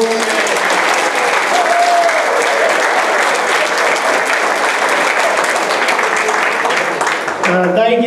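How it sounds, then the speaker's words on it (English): Sustained, loud applause from an audience for a community concert band at a school fundraiser, dense clapping filling the whole span with a brief dip near the end as it tails off. "So let's give them a big round of applause."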